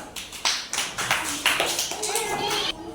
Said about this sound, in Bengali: আচ্ছা মুশফিকের জন্য হাততালি দাও